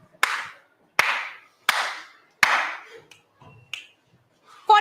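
A handful of sharp, isolated finger snaps and hand claps, used to count during a numeracy training session, spaced roughly evenly and close up in a quiet room, followed by softer scattered sounds.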